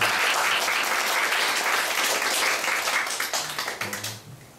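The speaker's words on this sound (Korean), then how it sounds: "우리 박수 한번 하시죠." A Korean church congregation gives a round of applause during a sermon service. Dense, loud clapping holds steady, then thins into scattered claps as it fades near the end.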